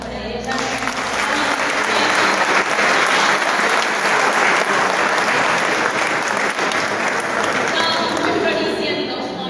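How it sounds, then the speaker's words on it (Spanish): Audience applause for choir members at a choral gathering, a dense steady wash of many hands clapping that holds loud for the full stretch and eases slightly at the end. "un aplauso para ellas"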